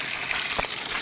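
Water pours down a small waterfall as a steady, close gush of broadband rushing with no pauses.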